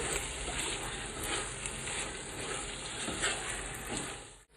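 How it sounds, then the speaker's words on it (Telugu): Chicken pieces fry in a pan for Dindigul thalpakatti biryani, giving a steady, close sizzle with scraping and stirring noises running underneath until a sudden stop at the end. "అంతా ముక్కకి బాగా పట్టే విధంగా బాగా కలుపుకుంటూ ఫ్రై చేసేసుకోవాలి"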